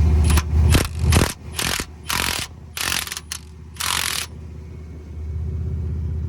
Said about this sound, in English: Grab the impact, put it on that bolt, and you can watch as it drives it in.